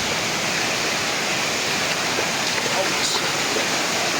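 Waterfall at a high point of a scenic falls with very clear water, a steady loud broadband roar of falling water throughout, no talking.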